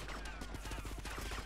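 Rapid gunfire crackles in a burst of shots during a Vice City video game shootout, dense and continuous but fairly quiet in the mix.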